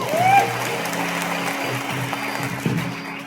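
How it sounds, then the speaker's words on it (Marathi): An audience claps steadily at a live Marathi bharud folk performance in Sangli, a dense broadband patter that runs the whole time beneath faint sustained musical tones and a short vocal sound at the start. "त्यांच्यासाठी सुद्धा टाळी वाजवा."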